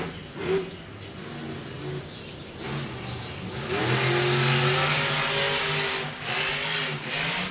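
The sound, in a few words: Monster Jam monster truck engine revving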